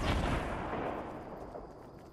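A single rocket explosion in Fortnite, a loud booming blast at the very start that rolls off into a fading rumble over about two seconds.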